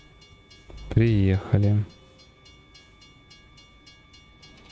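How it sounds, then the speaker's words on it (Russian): A double-decker American passenger train in the American Truck video game sounds two loud sustained horn blasts over a steady rolling rumble, with a voice briefly speaking before them. "Поезд едет. Ага. Ага, двухэтажный американский поезд."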